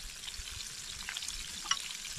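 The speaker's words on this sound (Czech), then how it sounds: "Tak, přátelé, rybu jsem otočil. Pokračuju v pečení" Fish frying in a pan, a steady close sizzle with crackling pops and one sharp spit near the end, no voices over it.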